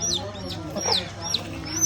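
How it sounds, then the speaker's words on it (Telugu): A village hen with a brood of chicks clucks in soft, low bursts while the chicks give repeated high, thin peeps, all close by and continuous. "ఇటువంటి కోళ్ళు కూడా ఉంటాయని నాకైతే ఇప్పుడే తెలిసింది"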